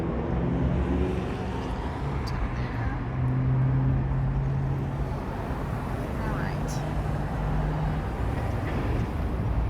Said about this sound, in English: So you can probably hear some cars.